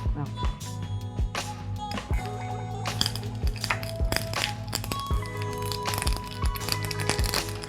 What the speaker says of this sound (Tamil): ஒரு ஹாஃப் டீஸ்பூன் கடுகு போட்டிருக்கேன்